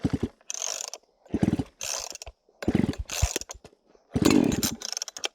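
A chainsaw is pull-started for bucking locust logs: five or six rasping starter-cord pulls in a row, each a loud ratcheting burst followed by a short gap.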